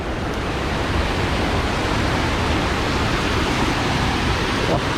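A creek swollen after heavy rains rushes continuously, a dense, loud, unbroken roar of water close by with no pauses.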